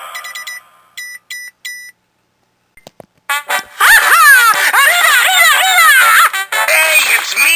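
Cell phone ringtone of short, bright electronic beeps in quick bursts, then after a pause a loud, busy stretch of warbling, chirpy tones with strong pitch sweeps that carry on steadily to the end.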